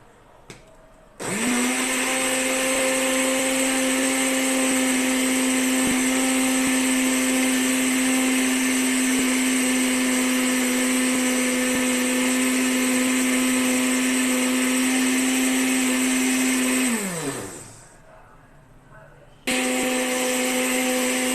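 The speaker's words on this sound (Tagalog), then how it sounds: "I-blender natin ngayon yan, mga nanay." A blender runs loud and steady with a high, constant whir for about sixteen seconds, winds down, pauses briefly, then starts up again.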